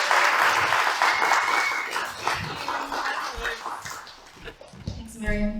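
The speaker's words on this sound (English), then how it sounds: "Give them a round of applause, please." An audience at a memoir panel session applauds the panel: loud clapping at first that thins out and fades over several seconds, then a voice begins speaking near the end.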